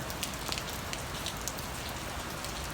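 Steady rain pattering on a surface, a dense continuous hiss with scattered louder drops, no voices.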